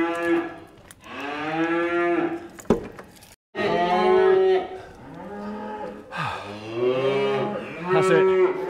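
Recently weaned Dexter calves bawling, a run of loud drawn-out moos one after another with brief gaps, close by and overlapping at times, with no talk.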